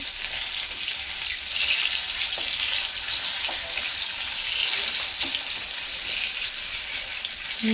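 Pieces of rohu fish fry in hot oil in a pan after being turned over, giving a loud, steady, close sizzle with faint bubbling crackles throughout and no voices.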